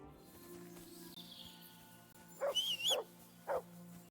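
Dog named Mutt barking in the video game Kingdom Come: Deliverance 2, a few sharp, loud barks in quick succession near the end, following a quiet stretch of ambient game sound.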